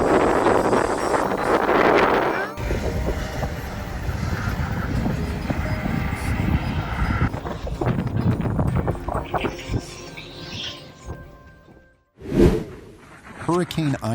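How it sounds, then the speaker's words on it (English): Hurricane Ida's gusts of up to 150 mph roaring as a loud, continuous rush of wind buffeting the microphone, with surges and a brief lull near the end, and voices talking faintly underneath. "Hurricane Ida made landfall in the U.S. with wind gusts up to 150 miles per hour"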